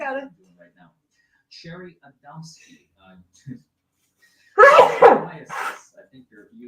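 A sudden loud sneeze bursts out after quiet, scattered voices, followed by a shorter second burst.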